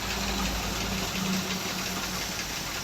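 A Massey Ferguson MF 375 tractor engine idles steadily at close range, a continuous low rumble with faint knocking and vibration running without a break.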